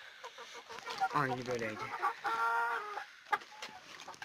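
Chickens and roosters on a village poultry farm in Zonguldak cluck and call nearby in short, overlapping bursts, with one drawn-out call in the middle, while a person speaks briefly among them.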